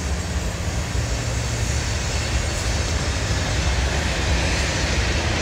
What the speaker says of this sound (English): This train here is carrying a lot of coal and